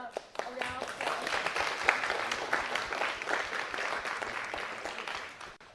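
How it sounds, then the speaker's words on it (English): An audience applauds at a business event on trading with China, producing a steady, dense wash of clapping that holds for several seconds, with a few voices mixed in underneath. "please give them a round of applause."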